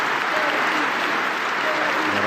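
Sustained applause from a full house at the Smith Center during an NC State versus North Carolina men's basketball game, a dense, steady roar of clapping from a large crowd, with a commentator talking over it.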